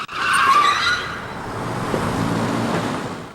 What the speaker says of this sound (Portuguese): Veja de novo o momento do acidente